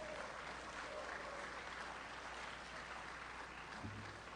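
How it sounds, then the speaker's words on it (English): Steady applause from a business membership meeting audience, faint and distant throughout, spread evenly across the clip with a low hum beneath it. "let's all give Secretary Fred a big,"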